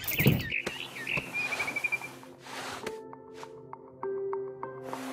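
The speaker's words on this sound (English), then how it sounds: "Then I heard chirping outside my window. It was a barn swallow going back to her nest." A barn swallow chirps in the video game What Remains of Edith Finch, giving a few quick, faint tweets near the start, followed by soft dripping and tonal game sounds.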